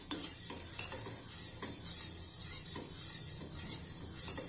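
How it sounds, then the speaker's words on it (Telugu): Grated carrot and beetroot salad with lemon mixed in a bowl, a steady wet shuffling and soft scraping of a spoon through the shreds, continuous and close with faint clinks. "తర్వాత ఇట్లా కలిపేసుకోవాలి."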